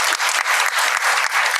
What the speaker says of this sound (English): give a big round of applause to our 4 young panelists